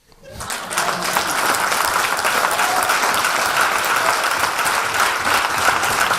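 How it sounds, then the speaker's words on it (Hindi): An audience bursts into loud applause that swells within the first second, then holds as a dense, steady wash of many clapping hands for about five seconds. "जोरदार तालियां सर के लिए।"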